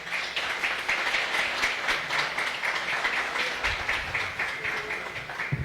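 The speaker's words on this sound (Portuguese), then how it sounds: "Agora recebemos também com aplausos o pai Rodrigo, Rumbono Rodrigo de Odé." Audience applause greeting a guest at a gathering, a steady dense wash of clapping that carries on for several seconds with faint voices underneath.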